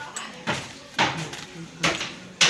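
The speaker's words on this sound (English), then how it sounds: "we will just get the punching board, the hammer, and the punch size we want" Four sharp metallic strikes land at uneven intervals, a hammer driving a punch through footwear material on a punching board, close by with quiet pauses between blows.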